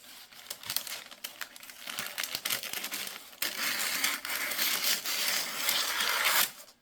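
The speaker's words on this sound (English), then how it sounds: "let me just cut a similar piece" Paper being cut with scissors for a junk journal, a close, dry rustling and crinkling with repeated snips and handling noises, steady and fairly quiet, no voices.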